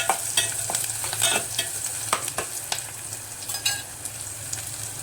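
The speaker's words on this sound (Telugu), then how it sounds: "ఇట్లా ఫ్రెష్గా ఇప్పుడే దంచుకున్న అల్లం వెల్లుల్లి పేస్ట్ వేసుకుంటున్నా. వేసుకొని కొంచెం ఫ్రై అయ్యే దగ్గర, పచ్చి వాసన పోయే దగ్గర వేపుకుందాం." Freshly pounded ginger garlic paste fries in a pan while being stirred. Steady sizzling runs throughout, broken by frequent scraping strokes of a spoon, with no talk.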